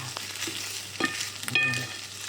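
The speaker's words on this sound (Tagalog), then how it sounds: "Para mag-brown. Brown ang ating bacon." Bacon sizzles steadily in a hot pan while browning, a continuous close crackle broken by a few louder stirring scrapes and clinks of a utensil, with no one talking.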